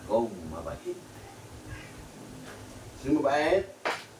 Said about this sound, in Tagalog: Pusa kong mabait.